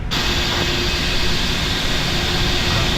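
Jet airliner engines roar steadily during a takeoff roll in a flight simulator, a loud continuous broadband rumble with a faint tonal whine that holds from start to finish.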